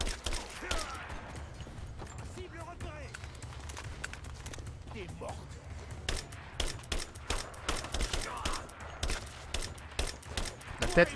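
Assault rifle fire in Rise of the Tomb Raider, quiet sharp bursts that grow into a regular string of shots near the end, heard beneath ongoing talk.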